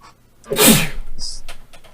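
A single loud, close sneeze bursts out sharply, followed by a brief breathy tail and faint noises afterward.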